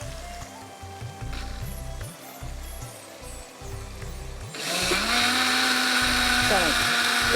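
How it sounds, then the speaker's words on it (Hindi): Electric blender whirs loudly as it purees masala for street-style kadhi chana. It kicks in partway through with a high, steady whine and keeps running to the end, after quieter kitchen sounds and talking. "और इसको हम ब्लेंड कर लेते हैं।"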